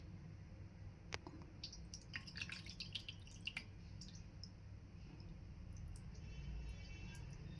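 Pure water is poured over a Shiva lingam during worship, a faint, close trickle with soft drips and light splashes running steadily without talk.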